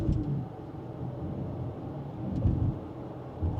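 A 2026 Porsche Cayenne Coupe in Sport Plus mode, second gear, gives off a steady, deep engine drone from inside the cabin as it pulls gently, swelling slightly partway through.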